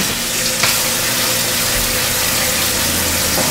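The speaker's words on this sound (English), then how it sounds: "I'm going to rinse these just slightly." Steady rush of running tap water splashing into a sink as canned beans are rinsed, continuous and close, with a brief clink near the start.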